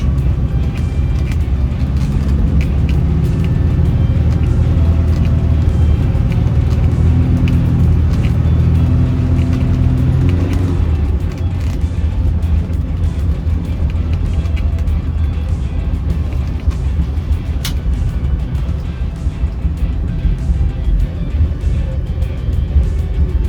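A 2025 Mahindra Roxor off-road vehicle with a closed cab drives along a back stretch at around 35, giving a loud, steady engine rumble and drivetrain drone that lightens slightly partway through, with no voices.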